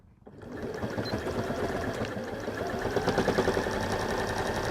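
A sewing machine stitches a seam on a Morsbag fabric bag, starting after a brief quiet moment and then running in a fast, steady mechanical rattle close by.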